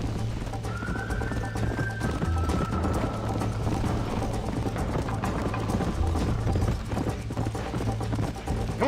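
A horse gallops in the video game Red Dead Redemption with steady, rapid hoofbeats running throughout at close range, a brief whistle-like tone near the start and faint voices mixed underneath.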